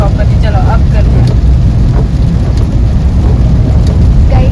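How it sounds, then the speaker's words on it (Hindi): Heavy rain pours continuously outdoors, a loud, dense roar with a low rumble beneath and brief, faint voice fragments during a pilgrimage trip to Khatu Shyam. "तो गाइस बहुत ही अच्छी बारिश हो रही है,"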